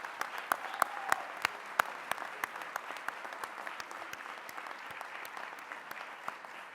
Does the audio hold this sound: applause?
yes